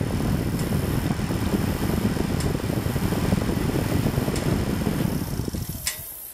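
Radiator cooling fan on a 2003 Yamaha Kodiak 400 ATV with an overheating problem, giving a steady loud whooshing whir with faint ticks, then shutting off near the end.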